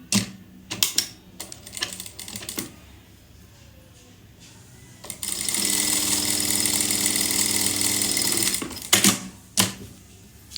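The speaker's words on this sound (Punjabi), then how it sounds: "ਤੇ ਆਪਾਂ ਹੁਣ ਲਗਾਵਾਂਗੇ ਦੀ ਸਲਾਈ" Sewing machine stitching a pocket onto palazzo pants, a fast rattling run lasting a few seconds, with shorter bursts and handling clicks before and after, close up and with no talking.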